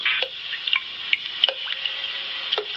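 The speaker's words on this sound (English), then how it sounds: "The sound you hear is dripping blood." Dripping blood as a sound effect: sparse, distinct drops plinking one after another at an irregular slow pace, close and clear against a hissing background, with no talk.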